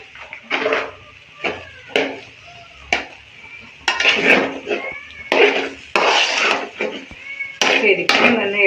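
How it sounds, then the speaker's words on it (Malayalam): A spoon scrapes and taps against a pan in uneven strokes as upma is stirred and mixed, the close clatter mixed with soft thuds. "ശരിക്കും തന്നെ ഇളക്കി തന്നെ ഒന്ന് യോജിപ്പിച്ച് കൊടുക്കണം കേട്ടോ"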